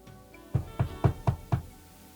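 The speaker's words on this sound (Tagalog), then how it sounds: "Kaya ang ginawa ko, kumatok muna ako sa kwarto." Five firm knocks on a bedroom door, evenly spaced and close, sound in quick succession after a short quiet pause, with no voices.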